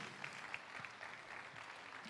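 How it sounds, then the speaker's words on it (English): Students in an audience at a STEM keynote event clap in a faint, distant wash of steady applause that holds at low volume for the whole short stretch. "Give yourselves a big round of applause"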